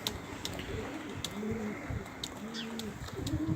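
Domestic racing pigeon, a prize-winning cock bird in a loft, cooing in repeated low soft phrases against a steady background hiss, with occasional faint clicks.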